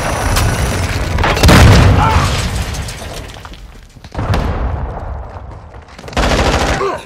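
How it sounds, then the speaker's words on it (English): Cruise missile strikes in Call of Duty: Modern Warfare II team deathmatch land as loud, heavy booming blasts, three big bursts spaced a couple of seconds apart, each trailing off into rumble amid distant gunfire. "Hostiles launched a cruise missile."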